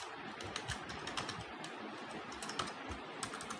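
Rapid keystrokes on a computer keyboard while C code is written, a steady irregular clatter of close, crisp clicks with no talking.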